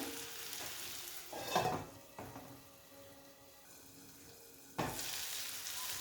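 Fried mixed vegetables of eggplant, cauliflower and potato with coriander get stirred in a pan, with a few scraping strokes over a soft sizzle and a brief louder scrape near the end, with no talking.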